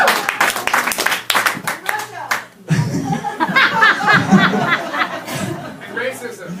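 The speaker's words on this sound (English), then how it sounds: "yeah, you can clap, that's okay." An audience claps and laughs at a cabaret comedy show, with a short burst of clapping and chuckles at first, then scattered laughter and chatter after a brief pause.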